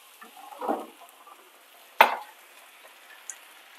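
Beef and onions for Filipino bistek sizzle faintly in a pan once soy sauce goes in, with a stirring scrape, a sharp metallic clink of utensil on pan, and a small tick near the end.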